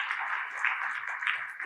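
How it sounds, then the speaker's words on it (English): Audience applause at a fireside chat event on Bengaluru as a platform, a steady wash of many hands clapping together, moderately loud and sustained throughout the short stretch without voices. "can we please give a huge round of applause for both of them?"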